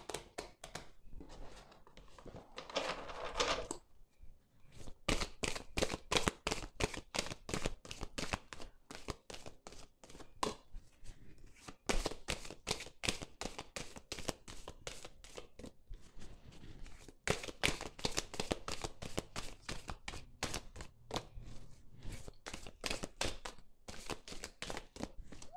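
A deck of tarot cards is shuffled and cut over and over, crisp rapid riffles and flicks in bursts separated by brief pauses, close and fairly quiet, with no voices.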